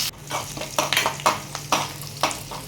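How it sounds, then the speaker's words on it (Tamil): Dried red chillies sautéing in a pan as a tempering for mint chutney: quick, uneven stirring scrapes over a soft sizzle, close by, with no voices. "வெறும் காஞ்ச மிளகா போட்டுக்கோங்க நல்லா வதக்கிடுங்க ஒரு பொன்னரமாக நல்லா வதக்கிடுங்க"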